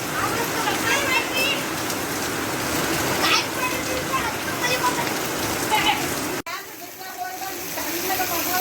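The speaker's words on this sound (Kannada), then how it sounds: "ಈಗ ಮಳೆ ಬರ್ತಾ ಇದೆ" Heavy thunderstorm rain pattering steadily on a surface in Terdal, Karnataka, with people talking over it; the sound drops abruptly and continues slightly quieter.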